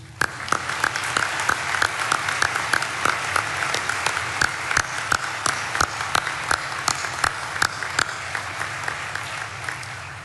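A commencement audience at Dakota State University applauds steadily for about ten seconds, a dense wash of clapping with a few sharper claps standing out.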